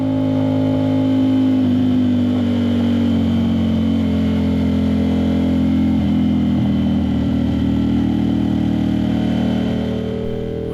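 An Aprilia RS660 fitted with a CRT exhaust drones at a steady, loud pitch as it runs on a race track, the engine note holding fairly constant before easing slightly at the end.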